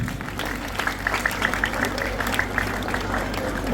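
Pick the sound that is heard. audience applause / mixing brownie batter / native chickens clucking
audience applause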